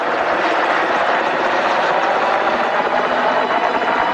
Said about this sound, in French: alors que nous sommes restés avec Albert, nous entendons au loin un hélicoptère.